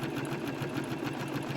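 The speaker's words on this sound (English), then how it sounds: "always test your stitch on a piece of fabric just to make sure it's exactly what you're" Sewing machine stitching an appliqué test on fabric, a steady, rapid mechanical whir with even, pulsing stitch beats, close and continuous.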